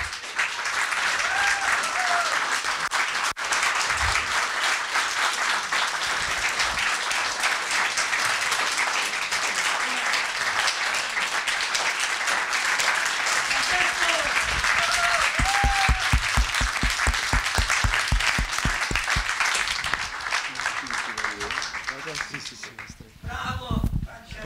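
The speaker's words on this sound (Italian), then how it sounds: "I would like to ask you, first and foremost, for an applause to Frank Monteleone" An audience at a film presentation applauds at length for Frank Monteleone, dense clapping with some rhythmic unison stretches, a few voices and whistles underneath, tapering off near the end.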